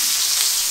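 Onion sizzles in hot oil in a wok while chilli cabbage is being cooked, a steady, bright hiss of frying heard close up and with no talking.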